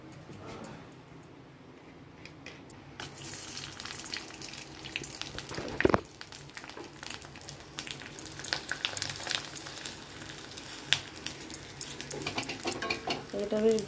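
Sabudana papad frying in a pan, a steady oily sizzle with occasional sharp crackles and a few utensil clatters, close and fairly loud throughout, with no talking.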